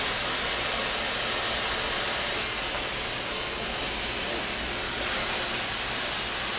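A hair dryer blasts continuously while blow-drying a woman's hair during a smooth salon blowout, a loud steady rushing whoosh close by that fills the whole stretch without pause and with no talk.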